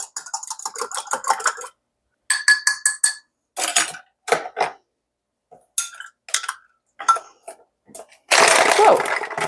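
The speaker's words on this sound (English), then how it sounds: "Give them a stir." Icicles clinking and scraping against glass as Bloody Marys are stirred, a series of sharp bright taps and rattles in irregular bursts with pauses, ending in a louder rush of noise.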